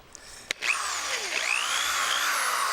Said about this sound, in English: grab your drill and go ahead and make the holes for where your plaques are going to go